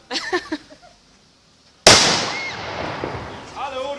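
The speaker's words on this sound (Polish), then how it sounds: "Ciekawe, czy to jest ta petarda?" A firecracker goes off with a single sharp, loud bang that rings out and decays, after a few short shouts and a pause, with voices resuming near the end.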